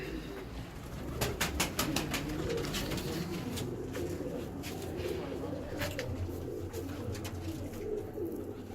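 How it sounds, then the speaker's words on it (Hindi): Soft cooing from a young black-faced pigeon repeats close by among other birds, over a busy low background rumble. "काले मुंह वाला कबूतर"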